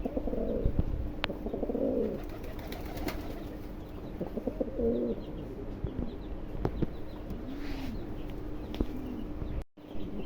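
A pair of white Granadino pigeons coo softly in repeated low, rolling phrases over a steady background hum, with a few faint chirps.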